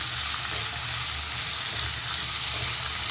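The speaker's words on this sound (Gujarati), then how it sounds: "હવે આ કેપ્સિકમ એડ કરી દઈશું।" Chopped capsicum sizzles and fries in a pan for masala okra, a loud, continuous hiss of hot oil that holds steady throughout.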